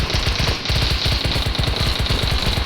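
Rapid automatic gunfire from a video game rattles in a steady, unbroken stream of quick shots, loud and close.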